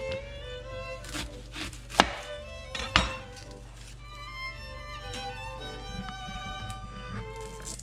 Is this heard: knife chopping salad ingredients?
yes